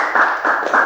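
An audience claps for contestants at an inter-school engineering quiz competition, giving a short, dense burst of close applause that swells in waves.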